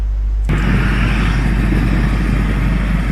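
Motorcycles pass near a dam at night, a steady engine drone with broadband road noise that starts suddenly and holds loud and close, no voices.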